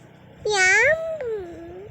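A voice imitates a cat's meow, one drawn-out rising and falling mew followed by a shorter, softer second meow, close and clear.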